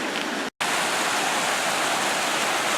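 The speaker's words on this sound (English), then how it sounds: "You can see all these little waterfalls along this edge." Steady, loud roar of a waterfall at Potato River Falls, recorded close from beneath the first step, with a brief near-total dropout about half a second in before the broadband rush resumes.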